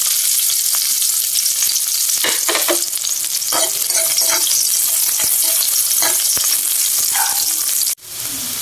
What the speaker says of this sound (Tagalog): Mainit po yung mantika natin. Lalagyan lang po natin ng bawang at sibuyas.